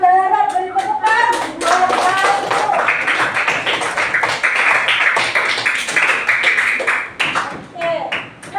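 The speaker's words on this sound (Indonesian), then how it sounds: "Beri tepuk tangan." A third-grade class in a school in West Kalimantan claps together on cue, a loud burst of rhythmic hand clapping from many children, with voices heard at the start and end.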